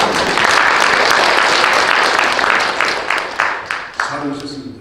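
Steady applause from a church congregation, dense clapping that fades into scattered, separate claps near the end.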